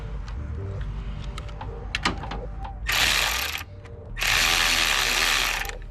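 Ratchet wrench working the 10mm belt tensioner bolt on a Honda H22A engine in a Prelude, scattered clicks and taps leading into two sustained bursts of rapid ratcheting, close up with no talk.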